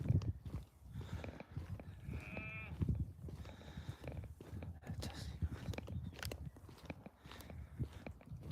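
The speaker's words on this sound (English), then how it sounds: "We got some sheep in this field as well." Sheep in a field behind a village house, with a short bleat near the middle and soft shuffling and grazing sounds against outdoor background noise.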